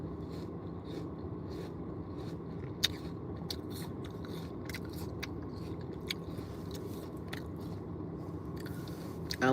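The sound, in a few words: biting and chewing a crunchy firm apple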